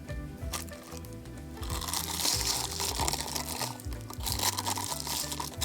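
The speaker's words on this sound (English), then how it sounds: "you're going to cover your paint with the cellophane" Cellophane crinkles and crunches as it is stretched over wet paint on a sheet of glass, a steady close rustling that rises and falls in bursts without any talk.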